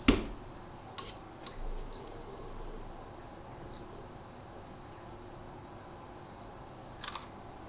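Photos being taken on an Infocus M810t smartphone camera: a few soft, sharp shutter clicks spaced seconds apart over a quiet room background, with no talk.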